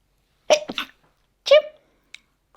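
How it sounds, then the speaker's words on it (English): A single close, forceful adult sneeze with a brief intake before it, followed by a short quiet pause. "And I'm going to sneeze."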